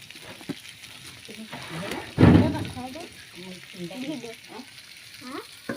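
Eel pieces and potatoes frying in a pan, a continuous crackling sizzle with a loud burst of spatter midway, heard under a voice speaking on and off.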